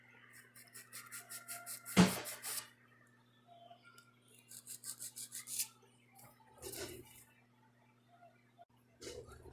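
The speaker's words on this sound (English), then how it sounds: "now we're just going to continue filing around now that it's all the way dry" A fine grit file is worked lightly over a fingernail in short bursts of quiet, close rasping strokes, with one sharper knock and long quiet gaps between bursts.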